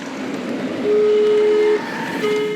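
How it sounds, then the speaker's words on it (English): A miniature railway train runs along the track, its horn sounding in a long sustained blast and then starting a second one, over a steady rolling rumble, loud and close with no talk. "There are as many types of trains as riders at Train Mountain. Steam, gas, and electric."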